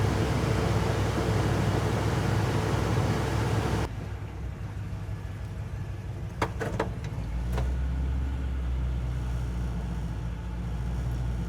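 A small engine fitted with a knockoff carburetor runs steadily at idle, a rough broadband drone at first that settles into a quieter, lower, even hum with a few faint clicks.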